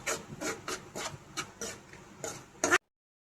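Mashed potato bhaji is stirred and mixed in a pan, giving a string of rhythmic scraping, rubbing strokes that are close and moderately loud. No one talks during it, and it stops abruptly.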